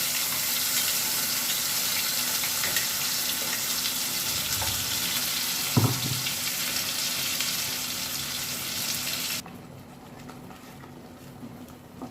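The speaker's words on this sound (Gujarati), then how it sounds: "હવે આપણે એમાં ગ્રેવીનો વઘાર કરી દઈએ" Palak paneer gravy hitting a hot oil tempering of floating cumin seeds: a loud, continuous sizzle with a brief stirring thump midway, then the frying drops sharply quieter near the end.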